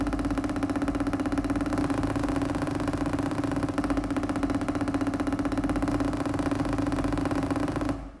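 A snare drum multiple bounce roll, sustained as a dense, even buzzing wash of strokes at steady loudness for about eight seconds before stopping abruptly.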